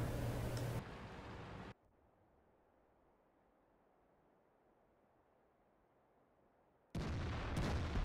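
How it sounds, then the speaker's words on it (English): The FV304 burst gun in a tank game lets out loud, heavy blasts at the start, falls into a long quiet lull, then fires again with another loud roaring volley at the end. "And now the burst gun is actually taking time to aim."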